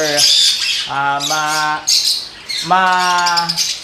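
A green-cheeked conure gives loud, harsh squawks in three close bursts, with brief gaps between them and no other sound around the calls.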